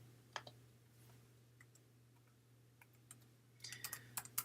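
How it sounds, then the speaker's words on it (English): Quiet, scattered keystrokes on a computer keyboard as a card name is entered, sparse at first and then a quicker burst of clicks at the end, over a steady low electrical hum. "So I'm going to start typing in Space"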